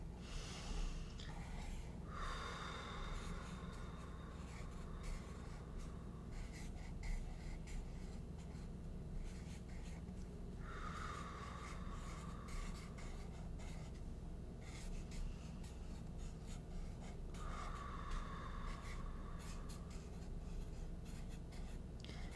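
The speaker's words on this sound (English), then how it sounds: "for each circle, as you're doing this, draw a flower petal around it" A pen scratches across paper while drawing flower petals, producing quiet, close scribbling strokes in short bursts, with soft breathing and faint squeaky sounds between them in an otherwise quiet room.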